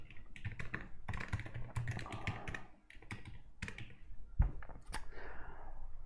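Rapid, uneven keystrokes clatter on a computer keyboard while code is typed, close and fairly quiet, with short pauses between bursts.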